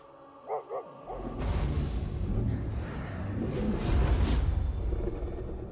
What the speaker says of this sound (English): Monster dog?